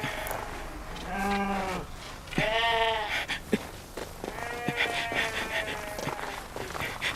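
A flock of sheep bleating, several drawn-out, wavering calls overlapping at close and middle distance, with shuffling hooves and rustling between them.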